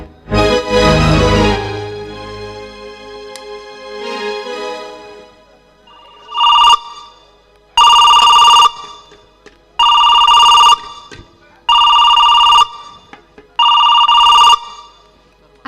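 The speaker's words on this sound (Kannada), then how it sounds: "ಫೋನ್ ಮಾಡ್ತಾ ಇದ್ದಾರೆ" Loud telephone ringing in a home drama scene, five evenly spaced bursts of electronic ringing, close and clear, after a short stretch of other sound at the start.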